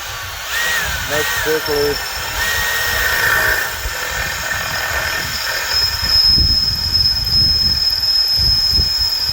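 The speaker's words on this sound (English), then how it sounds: "We're just going to drill a couple in between each one of these." A power drill boring holes in aluminum lathe tool holders, a whining motor that rises and holds in long bursts with grinding cutting noise, close and loud throughout.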